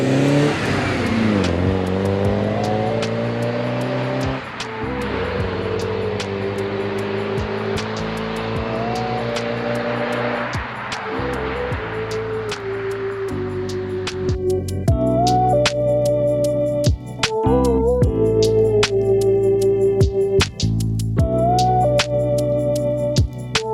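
A modified 1986 Porsche 944 drives along a road, its engine droning steadily and rising and falling through shifts, loud and close throughout with no talking.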